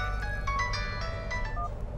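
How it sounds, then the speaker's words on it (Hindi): A mobile phone rings with a repeating melodic electronic tone over steady low background hum, with no speech, as in a scene from a Hindi-dubbed South Indian action film. "आपका फोन बज रहा, उठाओ ना।"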